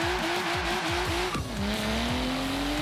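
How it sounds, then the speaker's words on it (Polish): A stock-engined car in Forza Horizon 3 on wide tires, launched at full throttle: the engine roars loud and close, its pitch climbing, dropping briefly at a gear change, then climbing again, with tire squeal underneath. "Gaz do końca."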